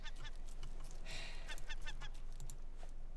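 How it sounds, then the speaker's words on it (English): A bird attacks a raft in the survival video game Raft, its honking, goose-like calls repeating alongside sharp pecking clicks. The sounds come in quick bursts over a low steady background. "I hear a bird attacking our son."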